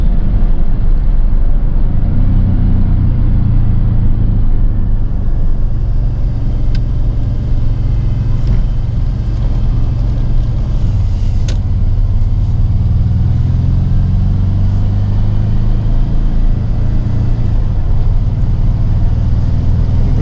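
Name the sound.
old truck engine idling high after sitting two years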